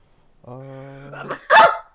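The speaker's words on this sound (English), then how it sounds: "That was a sneeze." A rising, drawn-out vocal intake builds up and ends in one abrupt, loud sneeze, close and alone.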